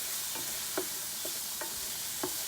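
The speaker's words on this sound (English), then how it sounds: "So let's sprinkle that in as well. And again, just stir that all in." Paella rice with chorizo, chicken, garlic and spices being stirred in a pan on a Cadac Safari Chef 2, with a steady soft sizzle and a few brief scraping strokes spread across the moment, no talking.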